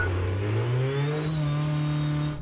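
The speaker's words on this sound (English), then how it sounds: "it can get noisy in that Dakar car with the petrol engine running" Petrol engine of the Audi RSQ e-tron Dakar rally car running loud and close, a steady droning note that rises gradually as it revs, with no talk over it.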